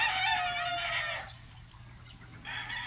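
A Kanawayon gamefowl rooster crows loudly and close at a farm, a long strained call that breaks off, then another crow begins, with faint clucking and farm noise between.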